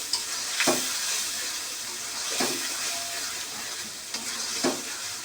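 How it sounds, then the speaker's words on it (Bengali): Chilli-powder masala paste fries hard in a pan for a fish dish, making a loud, continuous sizzle. Three scraping spatula stirs come through clearly at even intervals. "এখন মশলাটাকে ভালোভাবে কষিয়ে নেবে।"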